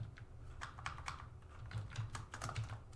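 Computer keyboard typing as networking commands are entered in a Cisco Packet Tracer lab, a steady run of quick, soft clicking keystrokes with an irregular rhythm, fairly quiet and close, with low background hum and no talking.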